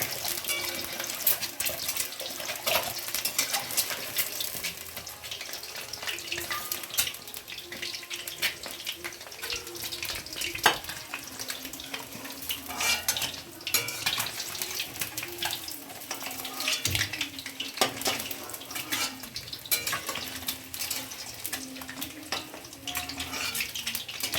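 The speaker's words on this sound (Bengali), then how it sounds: "তারপরে এখন ডিমটা ভেজে নিচ্ছি" Boiled eggs frying in oil in a pan give a steady, dense sizzle that runs unbroken from start to finish, close and fairly even in loudness, with no voices.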